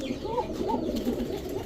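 Kokka pigeons at a breeding farm give soft, repeated low cooing, a steady throaty murmur that carries on without a break at moderate closeness.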